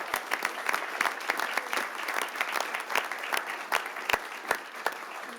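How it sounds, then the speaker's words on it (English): Audience applause at a city council awards ceremony honoring departmental award recipients, a thin, moderately distant patter of clapping hands with sharp individual claps standing out, steady for several seconds. "let's give a big round of applause to all the recipients of both the departmental awards"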